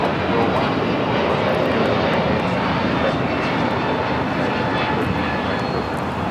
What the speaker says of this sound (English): This is an A321neo with United Flight 2113 taking off to Chicago.